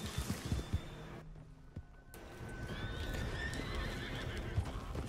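A video game horse in Red Dead Redemption 2 whinnies loudly, then hooves clop steadily in a quick rhythm, close and clear with no talking.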